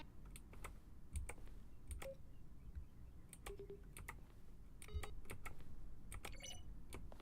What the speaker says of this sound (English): A selection of sounds used throughout the game when buttons are pressed.